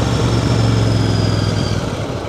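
A Royal Enfield SM 650 motorcycle idles with a steady, deep exhaust rumble, close and loud, with no voices over it.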